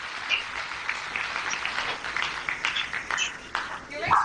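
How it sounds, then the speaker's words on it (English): An audience at the closing ceremony of the 2nd UN Food Systems Summit applauds with sustained clapping that swells and rolls on for several seconds, the room fairly loud and lively throughout. "Join us in applauding our Honourable Ministers for their contribution."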